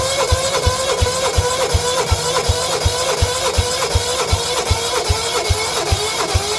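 A John Deere 160 lawn tractor engine cranks on its carburetor without catching. The rapid, even chugging pulses of the starter run steadily and loud up close.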